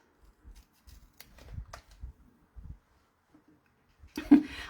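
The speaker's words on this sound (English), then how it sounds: "I'm going to cut around the pop-up elements." Scissors snip around the pop-up parts of a paper winter card, a scattered series of quiet, close cuts and paper rustles, ending in a brief louder rustle.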